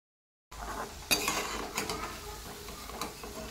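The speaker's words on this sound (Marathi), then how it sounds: "दोन्ही साईडनं छान परतून तळून घ्यायचं." Corn pakoda fry in hot oil, a steady low sizzle with scattered clinks and scrapes of a utensil turning the pieces, close and fairly quiet, no talk.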